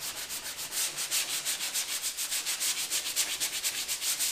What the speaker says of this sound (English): And even once it's smooth, you do want to sand it.